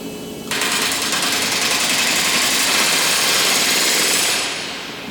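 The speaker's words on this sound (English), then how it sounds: "That's the Lancaster making all the noise" Loud, steady mechanical drone with a buzzing, hammering texture from the Avro Lancaster NX611 restoration in a hangar, mixed with riveting on the aircraft skin, starting abruptly and running continuously before easing slightly at the end.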